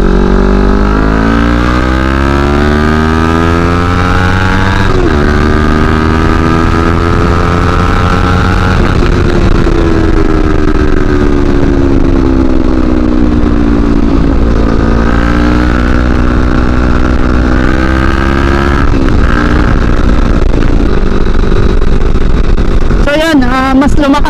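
A CFMoto NK400 motorcycle accelerating on a road test drive, its engine revving up repeatedly through several gears with rising pitch, loud and close, under a speaking voice.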